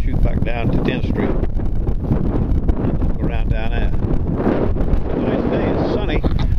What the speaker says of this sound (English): We got some wind. I'm sure you can hear it.